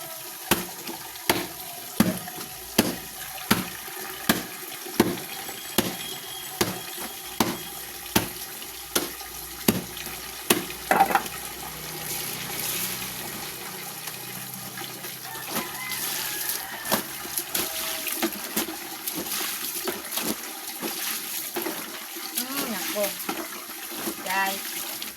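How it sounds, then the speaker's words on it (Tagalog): Tap water pours steadily during hand-washing of laundry, with a run of sharp, regular knocks and splashes in the first half, then continuous flowing water and washing sounds; someone talks at times. "Nag-agas-agas na itong tubig guys."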